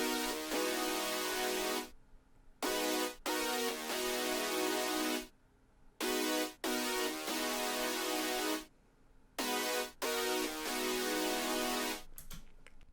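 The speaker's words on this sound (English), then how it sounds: "The next sound is a saw preset from Serum," Serum synthesizer saw preset with lows cut below around 233 Hz, playing bright, buzzy sustained chords in a rhythmic pattern of held blocks separated by short gaps, alone and fairly loud with no talking.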